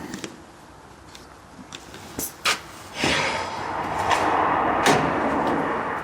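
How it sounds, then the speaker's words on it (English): The tailgate of a Suzuki Samurai with a newly fitted seal is closed, giving a few soft clicks and then a couple of firm thuds, near and moderately loud against a low background hiss. "and now the big moment, closing the door."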